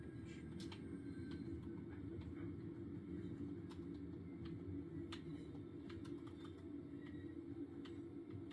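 Train braking to a stop in Train Sim World 5, a steady low rumble of rolling stock with faint squeals and clicks above it, even and continuous throughout with no voices.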